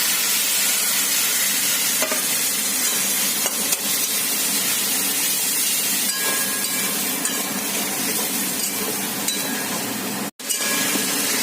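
A spice paste with cumin and dried chilli tempering, plus ground coriander, cumin and chilli powder, sautés with fried pointed gourd and potato, giving a loud, steady frying hiss with faint stirring scrapes and a brief break near the end.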